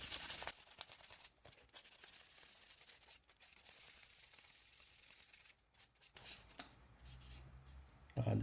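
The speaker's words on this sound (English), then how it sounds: "Now I'm just going to come in with a higher grit. This is 240 wet and dry, just to smooth it out." Wet sanding a Rubies Princess Leia blaster prop with 400 grit wet and dry paper, close steady rasping strokes with brief pauses and a louder scrub at the end, no talking.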